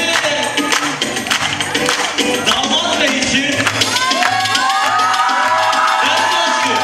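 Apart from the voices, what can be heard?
audience applause for the bride at a wedding performance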